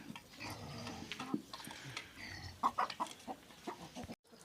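Old hens and a few young birds in a farmyard cluck in short, uneven bursts, with one louder pair of clucks near the middle, over a busy outdoor background.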